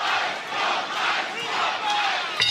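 A Las Vegas wrestling event crowd chanting loudly in unison, a dense roar of many voices that swells and holds steady for the whole stretch, with a brief sharp accent near the end.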